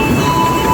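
An extra Gambir–Jogja passenger train passes close by at a level crossing, a steady loud rumble of rolling wheels and carriages with a faint high whine, continuous for the whole moment without pauses.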